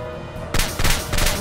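Railgun fire in the video game Star Ocean: The Last Hope: a loud, rapid burst of shots that starts abruptly after a brief lull and comes in three dense, surging volleys with no talk over it.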